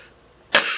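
A single sharp cough bursts out after a quiet moment, loud and close, its harsh noisy tail trailing off alone.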